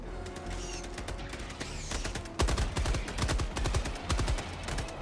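Automatic sentry gun in the Helldivers 2 video game firing rapid, sustained bursts of gunfire. The shots are close and loud, growing denser and stronger halfway through, with faint background noise in the first half.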